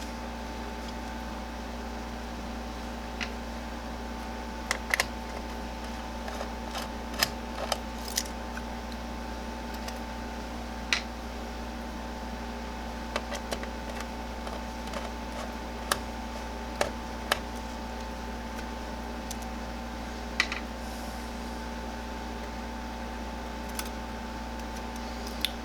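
Star screws on a stock CPU retention plate are unscrewed, giving sparse small clicks and ticks scattered over a steady low electrical hum, quiet and close with no talking.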